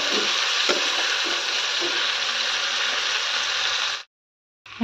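Meat frying slowly in a pan over low heat, giving a dense, even hiss with faint scraping, close and steady for about four seconds before cutting to silence.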